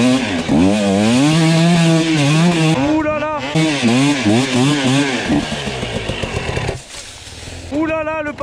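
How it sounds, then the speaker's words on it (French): An enduro motorcycle engine revs hard and climbs through gears on a trail, with one missed shift making the revs flare and wobble; loud and close, pitch rising and falling repeatedly, with a brief lull then a fresh rev at the end. "passage de vitesse raté."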